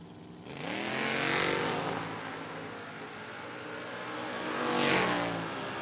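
At a footbrake drag racing event, a 1997 Ford Ranger and a 1970 Nova run a pass: loud engines scream and rise in pitch as they rush past, fade, then a second roaring pass swells near the end.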